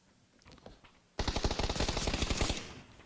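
A loud, rapid burst of automatic gunfire in a competitive esports video game match, steady fast rattling for about a second and a half after quieter distant shots, then stopping abruptly.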